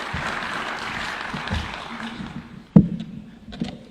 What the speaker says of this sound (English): Please, let's clap for the governor.